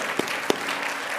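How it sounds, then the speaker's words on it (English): An audience at a junior and sophomore open house applauds student panelists, a steady wash of many hands clapping with a couple of sharper, louder claps standing out near the start. "to give them a round of applause."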